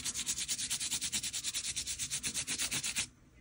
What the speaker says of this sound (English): the dry brush is skipping over all the bumps, which is kind of fun